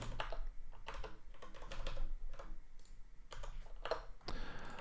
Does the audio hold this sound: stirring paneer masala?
no